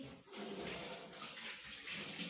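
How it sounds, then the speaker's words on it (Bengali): Water runs steadily from a tap as items are rinsed and washed under the stream, a continuous close splashing hiss with no one speaking. "চলো এগুলোকে ধুয়ে ঠুয়ে নিই"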